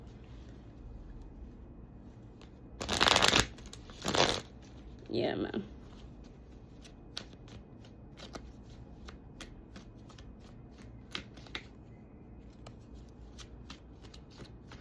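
Tarot cards being shuffled by hand in a few quick riffling bursts early on, then scattered light card taps and handling, while a person speaks quietly.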